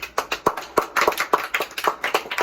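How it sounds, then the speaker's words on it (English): A small group claps for a performing group in loose, uneven handclaps, about a dozen distinct sharp slaps spread across a couple of seconds, fairly near and moderately loud. "Let's give a warm round of applause for our group"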